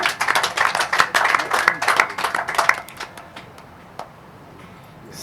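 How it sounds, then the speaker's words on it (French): An audience applauds at a staff handover ceremony, a dense burst of clapping that fades out partway through and leaves a quiet room with a single later tap. "je dirais d'applaudir encore une fois, franchement."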